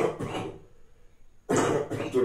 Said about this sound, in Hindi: थोड़ी खांसी हो जाती है